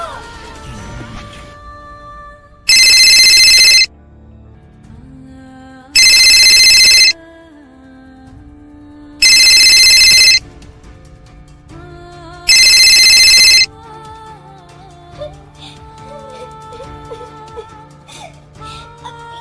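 A phone ringtone sounds four times in even, loud bursts, separated by quieter gaps with background sounds.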